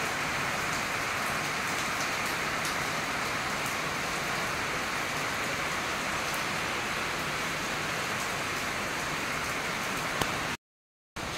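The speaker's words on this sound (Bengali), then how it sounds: "দেখেছো কি বৃষ্টি করছে?" Rain falls steadily on a rainy day outside a home kitchen, a dense, even hiss of drops that runs unbroken and alone before a short silent gap near the end.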